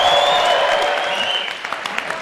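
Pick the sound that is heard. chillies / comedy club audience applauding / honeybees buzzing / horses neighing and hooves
comedy club audience applauding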